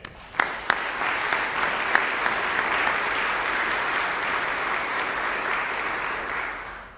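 An audience at a Christmas festival concert applauds the student performers, broad sustained clapping from a large crowd that starts with a few sharp claps and holds steady, softening slightly toward the end.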